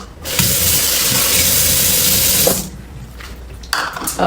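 Water gushes from a kitchen sink faucet for a couple of seconds as something is rinsed, a loud close spray that cuts off, followed by faint handling noises.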